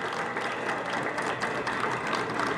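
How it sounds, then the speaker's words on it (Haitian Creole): Applause from an audience at a ceremony in Haiti, a dense, steady crackle of many hands clapping at once that keeps up evenly throughout. "on applaudit"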